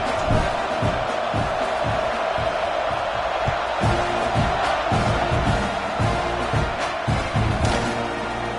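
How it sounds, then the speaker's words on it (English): A stadium crowd in the College Football 26 video game buzzes just after a touchdown, a loud, steady roar with swelling cheers and scattered whoops throughout. "this crowd is buzzing after that last score"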